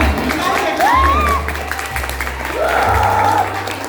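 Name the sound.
audience clapping at ramp walk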